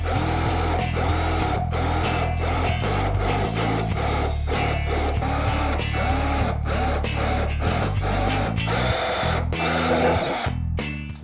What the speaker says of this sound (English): Now we've drilled the pilot holes,